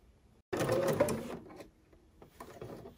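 A sewing machine with a dual feed foot runs a short burst of stitching through face mask fabric, loud and close, then slows to softer intermittent whirring.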